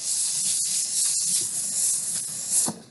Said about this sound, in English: for scraping sounds, I highly recommend these very technical instruments right here called paper plates